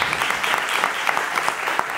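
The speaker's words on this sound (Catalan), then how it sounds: "I jo vos demanaria al Dream Team que els aplaudiu" An audience at a school round-table event applauds, a close, sustained wash of many hands clapping at even strength, with no talk over it.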